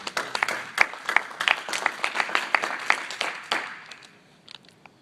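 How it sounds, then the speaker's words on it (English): An audience gives a speaker named Steve a round of applause at a seminar. Sharp individual claps ring out in a lively burst that thins and fades toward the end. "So give a big warm applause for Steve"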